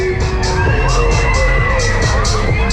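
A crowd on the Megaspin fairground ride at the Neath Great Fair screams and cheers over loud pumping music with a thumping beat and rhythmic bursts of noise.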